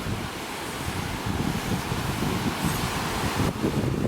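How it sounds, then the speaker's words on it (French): Small waves wash continuously against a lakeshore, a steady broadband surf roar mixed with gusts of wind buffeting the microphone, loud and close with no speech. "c'est pas les plus grosses vagues du monde, là, c'est un lac"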